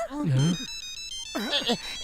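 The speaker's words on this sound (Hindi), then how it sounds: "चिंगम सर का फोन था" Cartoon phone ringtone chirping in a rapid electronic pattern between two bursts of animated voices, loud and close, from a Motu Patlu episode.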